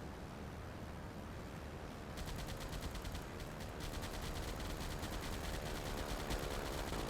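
Gunfire in Silent Hunter 5 during a Battle of the Atlantic convoy fight: rapid, regular machine-gun rattle that starts partway through and continues over a constant wash of sea and engine noise.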